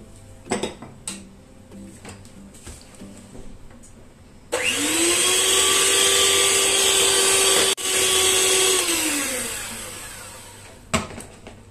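An electric hand mixer whirs steadily for several seconds while beating condensed milk cake batter for a coconut bundt cake, with a brief dip in the middle before winding down; a few clinks of a bowl come before and after.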